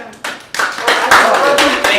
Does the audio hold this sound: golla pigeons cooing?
no